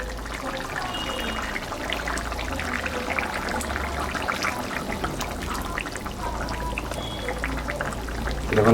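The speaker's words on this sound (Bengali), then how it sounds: "এই দেখুন বন্ধুরা আমি নামিয়ে এসে এখন ঢেলে দিয়েছি মাত্র।" Cooked country chicken curry with soft, broken-down potatoes being poured out of the pot, a continuous wet trickling and sloshing with low rumbling underneath, steady and fairly close throughout.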